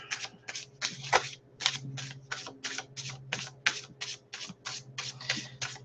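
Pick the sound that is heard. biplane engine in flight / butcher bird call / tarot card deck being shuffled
tarot card deck being shuffled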